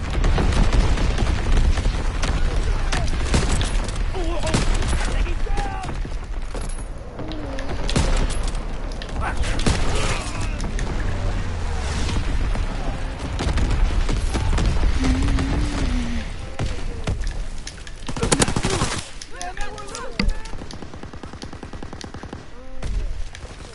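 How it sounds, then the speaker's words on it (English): Enemy artillery pounds away in a shooter video game, with dense, loud bursts of gunfire and booming impacts running almost without pause while players talk over the barrage. "Incoming enemy artillery."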